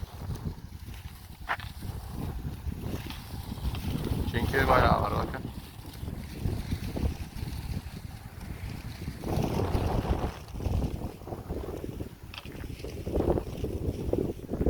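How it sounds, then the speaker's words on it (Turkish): Strong wind buffets the microphone in gusty, roaring surges, with someone speaking briefly in Turkish underneath. "Şuradan göstereyim şöyle size rüzgarı şiddetini."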